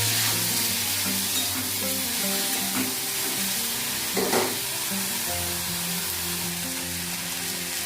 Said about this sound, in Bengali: তেলটা গরম হয়ে গেছে, এইবার আমি এর মধ্যে 2টো শুকনো লঙ্কা ফোড়ন দেব।